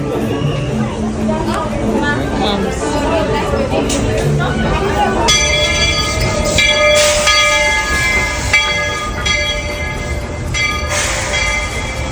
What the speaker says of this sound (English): Our train will be here shortly.